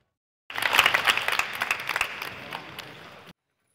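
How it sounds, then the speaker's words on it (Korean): Firefighter candidates applaud one another after finishing a demanding shuttle-run fitness test in Gyeongnam: a burst of dense, close clapping that starts abruptly, peaks early and fades gradually over about three seconds. "경쟁 관계지만 박수로 격려합니다"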